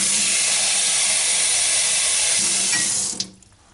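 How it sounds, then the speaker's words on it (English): Water runs steadily from a sink tap into a lab beaker in a steady rushing hiss, loud and close, and cuts off abruptly near the end. "We are going to fill this first beaker up with a little bit of water. So I'm going to go to the sink."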